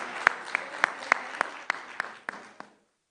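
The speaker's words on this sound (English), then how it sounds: "one more round of applause" Audience applause at the News9 Global Summit, UAE Edition, with about ten sharp, evenly spaced claps over a soft crowd patter, fading out after a few seconds.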